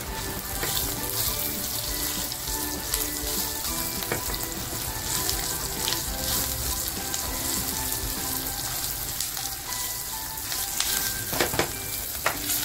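Peanuts and salt frying in a pan for a leftover-rice breakfast, a steady close sizzle with scattered crackles and stirring scrapes, no talking.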